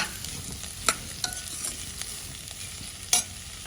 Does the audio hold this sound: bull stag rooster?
no